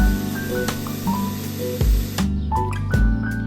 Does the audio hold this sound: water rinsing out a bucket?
yes